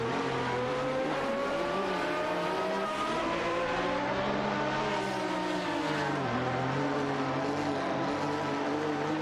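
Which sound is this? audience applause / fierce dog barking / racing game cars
racing game cars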